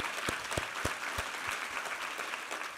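Congregation applauding during a Korean Easter Sunday church service, with soft, fairly distant clapping and a few sharper individual claps standing out in a short burst.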